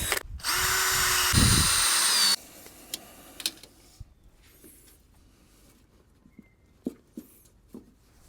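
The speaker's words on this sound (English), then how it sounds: "I'm gonna pre-drill everything pretty much" A power drill whines loudly for a couple of seconds while pre-drilling wood, then stops, followed by scattered faint knocks and clicks of handling.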